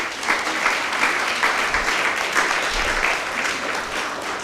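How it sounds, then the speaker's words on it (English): A crowd applauds steadily for the winning teams at a junior team knockout competition, a dense and even burst of clapping throughout with no talk over it. "A round of applause for them."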